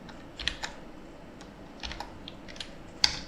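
Keys on a computer keyboard are tapped while entering a Linux command line instruction, a few scattered clicks spaced unevenly and heard close up in a quiet room with no speech.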